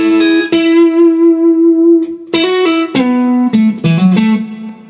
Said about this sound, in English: the intro lead part sounds like this